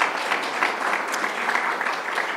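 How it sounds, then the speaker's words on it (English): Audience applause at a university budget forum: dense, steady clapping from many hands, fairly close and even, continuing without a break and with no voices over it. "a round of applause"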